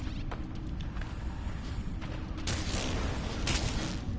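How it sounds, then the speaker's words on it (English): Heavy, muffled bursts from a modified gun in the space game No Man's Sky, two broad blasts late in the clip over a dense, rumbling ambient bed with faint clicks before them. "I've just modified this gun and it kicks like a mule"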